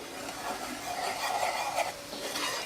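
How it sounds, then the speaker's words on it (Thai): Ingredients being dry-roasted and stirred in a pan, a faint continuous scraping and light crackle with soft rustling strokes, no talking. "คั่วอย่างเงี้ย"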